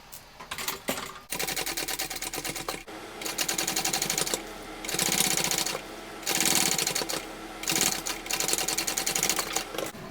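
A sewing machine top stitches the main lining of a bucket bag in rapid rhythmic bursts, several separate runs of close mechanical stitching with brief pauses between them.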